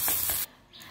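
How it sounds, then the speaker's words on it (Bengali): Ginger and tomato frying in a pan give a close, loud broadband sizzle for about half a second, which then drops to a faint, quieter hiss. "টমেটোটা হালকা করে ভেজে নিতে হবে।"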